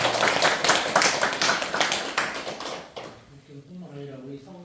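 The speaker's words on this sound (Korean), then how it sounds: "박수 한번 크게 쳐주세요." An audience at a Won Buddhist training session claps together in a burst of fast, fairly close applause for about three seconds. It fades out, and then someone speaks.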